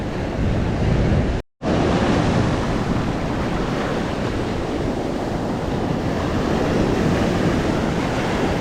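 Ocean surf rolling onto a Florida beach at changing tide, a steady loud wash of breaking waves mixed with wind rumble on the microphone, with a brief dropout near the start.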